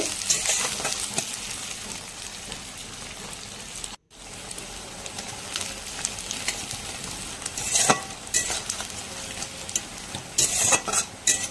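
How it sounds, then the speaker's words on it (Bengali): Chopped onions frying in oil with dried red chillies in a pan, a steady crackling sizzle throughout with occasional stirring scrapes and a brief gap near the start, no talking. "পেঁয়াজটাকে ভালো করে ভেজে নিব।"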